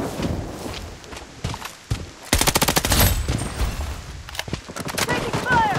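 Gunfire in Blood Strike comes in scattered single shots and then a dense rapid burst mid-way, followed by more sporadic shots, with shuffling footsteps and game voice callouts mixed in.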